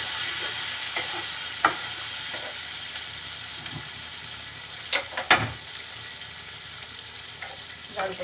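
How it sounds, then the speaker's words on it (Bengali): Pabda fish sizzling and frying with spices in a pan, a steady broadband hiss with occasional sharper scrapes and stirring knocks, close and alone. "মশলার সাথে মাছগুলো খুব সুন্দরভাবে কষিয়ে নেব"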